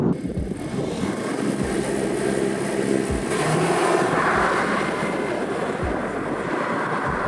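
An Audi S3 sports car accelerating hard, a loud, steady engine roar with rising and falling tones, recorded close and heard alone without talk.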